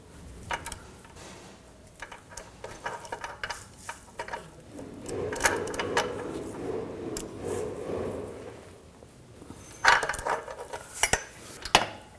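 Metallic clicks, ticks and scraping of a wrench tightening a new downstream O2 sensor on a 2011-2019 Ford Explorer, irregular close taps with a brief louder clatter near the end.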